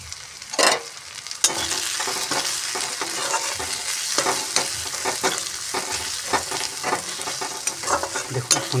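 Onion, tomato, salt and turmeric stirred in hot frying oil for brinjal vorta, a steady sizzle with frequent close scraping and knocking of a spoon against the pan, no voices.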